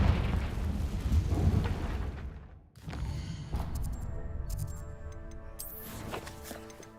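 A Confringo spell explodes in Hogwarts Legacy, a booming blast with rumbling debris that cuts off sharply, followed by game ambience with chimes and tonal effects.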